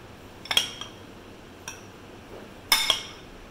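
Utensils tossing an Italian salad with cheese in a bowl, giving a few short, bright metallic clinks in small bursts against a quiet background.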